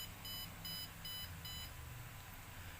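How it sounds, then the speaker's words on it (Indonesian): An Arduino buzzer wired to a push button sounds four short, evenly spaced high beeps, each about a third of a second, over a steady background hum. "Terlihat bahwa LED dan buzzer bekerja dengan baik."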